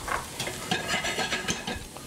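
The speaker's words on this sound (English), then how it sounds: "my shallots are sauteing" Shallots sizzle steadily in a hot pan while a utensil stirs them, with busy crackling and soft scraping strokes, close and continuous.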